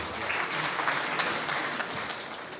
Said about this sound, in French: J'aimerais qu'on les applaudisse, s'il vous plaît.